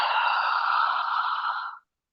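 A person breathes out through an open mouth as if fogging a mirror, a single breathy exhale of under two seconds, close and fairly loud, that ends abruptly in silence.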